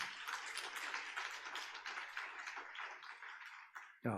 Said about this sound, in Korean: 다시 한번 축하 박수합니다